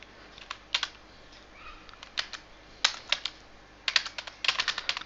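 Java code typed on a computer keyboard, with bursts of quick, close key clicks separated by short pauses and a fast flurry toward the end, in a quiet room with no talking.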